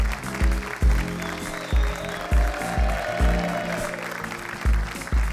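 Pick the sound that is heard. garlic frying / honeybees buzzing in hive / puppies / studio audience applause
studio audience applause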